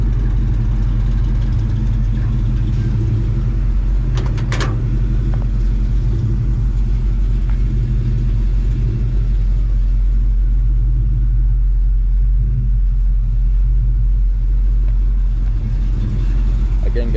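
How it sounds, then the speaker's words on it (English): A 1971 Chevrolet C10 truck idles through dual chrome exit exhaust, a loud, deep and steady rumble running throughout without a break. "Like I said, great sound out of this exhaust."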